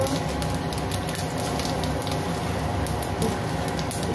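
Panch phoron spices and a bay leaf sizzle in a little hot oil left from frying potatoes, a steady dense crackling hiss that runs unbroken and close throughout, with no voices over it.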